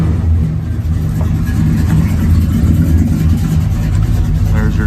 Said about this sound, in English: Got good sound, dual exhaust.